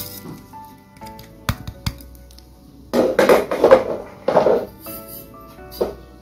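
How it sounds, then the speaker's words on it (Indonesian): Oyster mushroom nugget mixture being stirred together with carrot and spring onion in a bowl, giving a cluster of clinking, scraping utensil knocks in short bursts, fairly close, with quieter taps before and after and no talking. "Kemudian kita campurkan semuanya ini yang sudah kita siapkan, wortel dan daun bawang sendiri."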